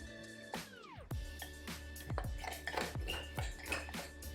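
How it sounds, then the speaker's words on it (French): A spoon clinks repeatedly against a bowl while pancake batter is mixed, bright ringing taps in a quick irregular rhythm, close and fairly soft. "Et ensuite, je viens mélanger le tout"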